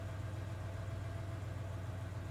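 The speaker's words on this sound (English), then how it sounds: "I hear the sound of an engine revving outside." A truck engine runs outside in the video game 428: Shibuya Scramble, a steady low idling drone that stays faint and even throughout, with no voices.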